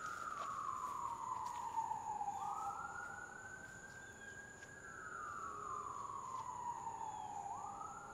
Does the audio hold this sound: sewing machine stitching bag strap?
no